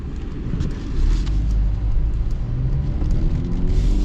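A 2026 Mercedes GLC 300 with its four-cylinder engine driving, a smooth steady cabin rumble with road noise, constant and fairly loud, no talk.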